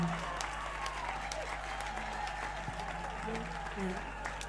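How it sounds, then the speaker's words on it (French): Steady applause from a crowd at a church testimony service in Côte d'Ivoire fills the space, continuous dense clapping with voices mixed underneath. "Let's clap"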